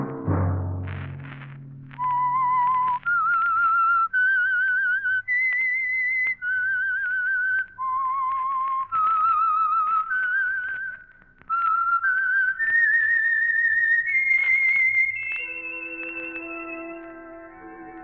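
A lone whistler carries a bright, melodic tune in short rising phrases, clear and close, ending on a sustained wavering note.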